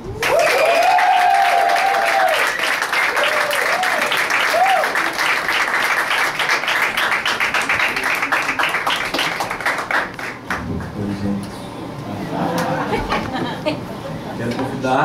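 Audience at a live music night applauding as the next singer is introduced, loud sustained clapping under an announcer's amplified voice and a few cheers, thinning toward the end.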